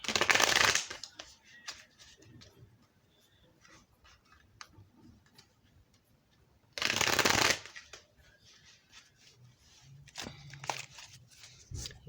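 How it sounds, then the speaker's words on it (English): Thick tarot cards shuffled by hand in two loud riffling bursts near the start and again midway, with soft handling clicks and taps of the deck in between, close up and alone. "I'm going to do a couple more shuffles here."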